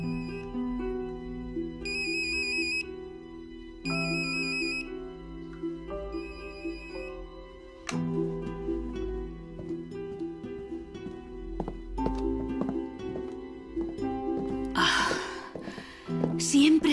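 A mobile phone rings with a repeating electronic melody in short bursts, heard in a scene from a 2009 Spanish-language romantic film, under other sounds.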